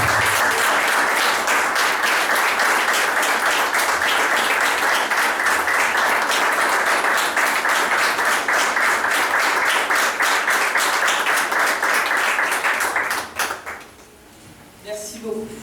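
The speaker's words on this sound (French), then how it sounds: "Et on va applaudir pendant 10 à 15 secondes." An audience at a Paralympic-related event bursts into loud, dense, sustained applause for about thirteen seconds, then it fades abruptly into quiet room noise.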